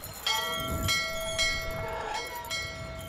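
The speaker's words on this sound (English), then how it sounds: "Ring that bell." A bell in the adventure game Syberia is struck about four times at uneven intervals. Each clang rings on with a sustained metallic tone over a low rumbling ambience.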